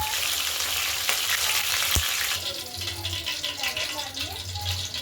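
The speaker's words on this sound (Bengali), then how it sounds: "একটা কড়াই নিয়ে তার মধ্যে কিছু পরিমাণে সর্ষের তেল দিয়ে তার মধ্যে তেলাপিয়া মাছটাকে কেটে নুন হলুদ দিয়ে মাখিয়ে রেখেছিলাম আগে থাকতে, সেটাকে ভালো করে ভেজে নেব।" Tilapia pieces rubbed with salt and turmeric fry in mustard oil in a wok, a steady close sizzle with a sharp clatter, while a person talks over it.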